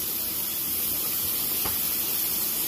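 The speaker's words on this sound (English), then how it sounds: "we got our pork chop frying" A pork chop frying in a hot pan gives a steady, close sizzling hiss that runs unbroken throughout, with a brief crackle partway through and no voices.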